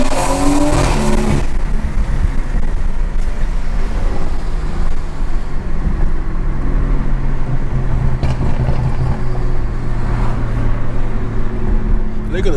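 A BMW 340i with a turbocharged engine pulls hard at night, a loud, close, continuous engine roar with a rising and shifting tone and a brief sharp burst near the start, heard from inside the car.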